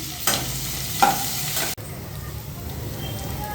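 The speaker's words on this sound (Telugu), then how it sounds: "అదే కళాయిలో కట్ చేసి పెట్టుకున్న ఉల్లిపాయలు, పచ్చిమిర్చి అండ్ కరివేపాకు కూడా వేసి ఇవి నైట్ గోల్డెన్ కలర్ వచ్చేదాకా మంచిగా మనం వేగించుకోవాలి" Chopped onions, green chillies and curry leaves fry in a kadai for sweet upma, giving a continuous close sizzle with a couple of stirring scrapes and an abrupt knock partway through.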